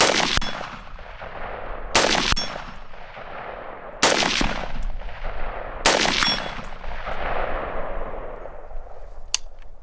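Four loud rifle shots fired from a carry-handle scoped AR-style rifle with a 20-round magazine, spaced about two seconds apart, each a sharp crack followed by a long echoing tail, plus a faint metallic ping near the end.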